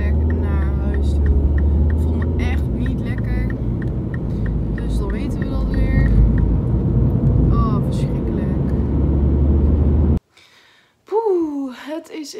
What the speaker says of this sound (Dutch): Ik zit nu in de auto onderweg naar huis toe.